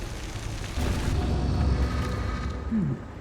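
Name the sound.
Incendio fire spell lighting pyres in a video game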